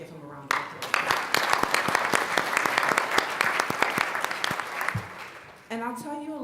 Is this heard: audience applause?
yes